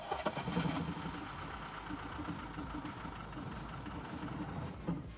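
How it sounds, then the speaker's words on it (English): An engine struggling to hold idle on too little of something (3 mil), running rough and uneven with a knocking, sputtering rumble throughout and a brief surge near the end. "The engine refuses to run, even at idle."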